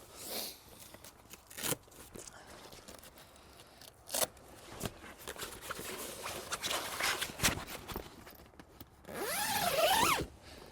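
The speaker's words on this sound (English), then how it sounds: "we can even zip out this whole bug screen and it gives you a direct pass through to the outside" Zipper on the bug screen of a family adventure camper van being drawn open in several quick rasping pulls, close and fairly quiet, ending in a longer louder zip.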